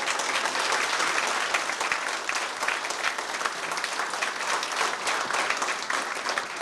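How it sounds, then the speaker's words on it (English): Dense, steady applause from a dinner-dance crowd honoring Gaeltacht All-Ireland handball players, sustained loudly and evenly throughout without pause. "So I think Bernie and Francis deserve a great round of applause."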